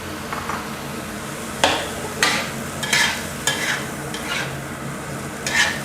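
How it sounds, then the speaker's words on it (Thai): Glass noodles with water mimosa, shrimp and squid being stir-fried in a pan: a spatula scrapes and clatters against the pan in repeated strokes over a continuous sizzle, close and fairly loud. "ผัดคลุกเคล้าก่อนนะครับ ตามด้วยกุ้งแล้วก็ปลาหมึกนะครับ ที่เราผัดไว้ในขั้นตอนแรกนะครับ"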